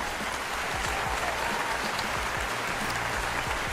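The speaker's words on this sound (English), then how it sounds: "so round of applause for you." Applause from an audience during a live EDC community stream, a continuous wash of clapping with steady level throughout and no talking on top.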